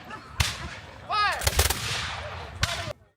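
Muskets fired in volleys at a Revolutionary War battle reenactment near the Brandywine, loud booming blasts with rolling echoes, one early shot, a ragged burst mid-clip and another crack near the end, with a shouted voice briefly mixed in.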